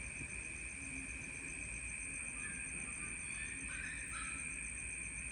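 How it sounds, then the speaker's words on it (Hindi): Crickets trill at night in the rainy season, a steady, unbroken high drone with a second fainter shrill layer above, continuous and fairly distant, with no voices. "ये आवाज़ सुनो भाई, जो बरसात के सीज़न में यहाँ पे झिंगुर हैं"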